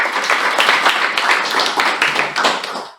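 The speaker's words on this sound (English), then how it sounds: "So let's give a huge round of applause." A Toastmasters club meeting audience claps for a member, a short burst of close, brisk clapping with distinct individual hand claps audible through the wash.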